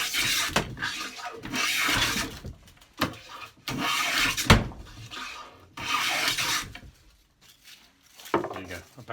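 A woodworking hand plane shaves wood in repeated rasping strokes, each a soft scraping swish, moderately close, with quiet pauses between passes.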